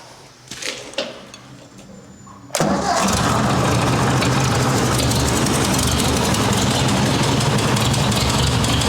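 A 1958 Ford 800 tractor engine cranks and catches after a few quiet knocks, then runs loud and steady close by in a barn with a rough, rattling idle.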